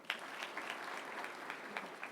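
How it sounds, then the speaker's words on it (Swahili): An audience at a school anniversary celebration clapping, a quiet, fairly distant patter of applause with scattered sharper claps, steady throughout. "Wapigie makofi."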